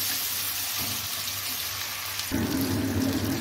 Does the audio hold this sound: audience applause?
no